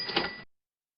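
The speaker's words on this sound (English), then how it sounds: "I heard a cash register." A cash register rings out in a single short, bright mechanical burst with a chiming bell tone, close and fairly loud, cutting off abruptly into silence after about half a second.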